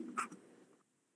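A pen or pencil writes briefly by hand on paper, a short quiet scratching stroke that fades into near silence.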